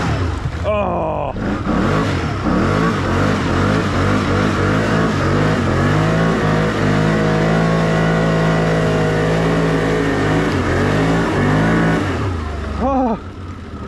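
A Can-Am off-road vehicle's engine revs hard and steadily under throttle while stuck in deep mud, loud and close, dropping off briefly near the end as excited voices shout.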